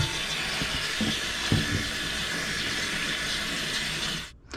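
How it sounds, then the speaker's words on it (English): Cold water runs from a kitchen tap over shrimp being rinsed, a steady close splashing hiss that cuts off near the end. "I've rinsed these under a cold tap for just a minute or so"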